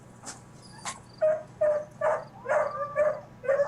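Dogs barking in short, sharp yips and woofs, about eight barks in an irregular run, fairly close, alone without talk.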